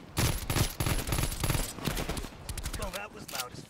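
Rapid unsuppressed automatic gunfire in Call of Duty: Cold War rattles in loud close bursts, followed by scattered shots and voices talking briefly at the end.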